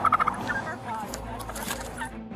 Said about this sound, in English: Florida police couldn't believe their eyes when they had to welcome a confused turkey onto the road